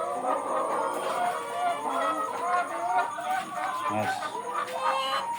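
Chickens on a small farm shared with ducks, pigeons and goats cluck and murmur in a loose, continuous chatter nearby, with a few sharper calls breaking through the low flock noise.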